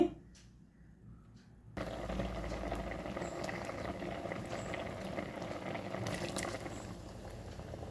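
Cucumbers simmer in a pot of fresh water, a steady rolling bubble and hiss that starts abruptly and holds at a constant level for several seconds, with no voices.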